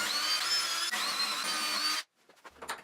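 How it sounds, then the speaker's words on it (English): A power drill bores holes in a metal tool cart, a loud, steady high whine held for about two seconds with a brief dip midway, then cutting off to quiet with a few small clatters. "Then I could drill out all the holes"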